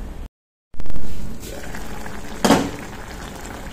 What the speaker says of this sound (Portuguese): Vou deixar ele cozinhando aqui e vou mostrando para vocês.